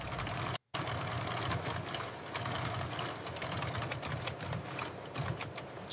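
Industrial sewing machine stitching a hem on a premium dress shirt in a factory, a steady continuous mechanical whir with a fast needle rhythm that runs throughout, broken by one very brief gap near the start.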